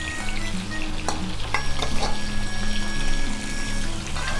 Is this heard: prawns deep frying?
yes